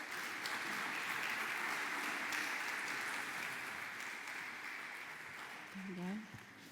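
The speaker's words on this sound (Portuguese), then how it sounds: "Uma salva de palmas, por favor." An audience at a Catholic University event in Porto gives a panel moderator a round of applause. The clapping is steady and fairly distant, and a voice begins speaking just before it ends.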